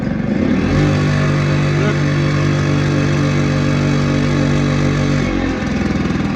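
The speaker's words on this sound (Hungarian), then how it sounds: "Ahogy húzok egy gázt" An Aprilia SR50 scooter engine, tuned with a lambda sensor, rises from idle into a loud, sustained throttle rev with a steady buzzing drone, then drops back toward idle.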